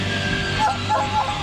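Hounds whimper and yip in short high whines over a steady low background hum, several brief cries close together.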